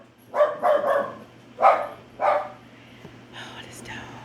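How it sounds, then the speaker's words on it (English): A dog barks indoors in short, close bursts, a few quick ones in a row, then a pause and two more single barks, with softer sounds trailing after. "Oh, this dog."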